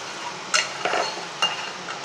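A spoon stirs chicken ghee roast gravy in a pan, making two or three sharp metallic clinks and scrapes over a faint low sizzle.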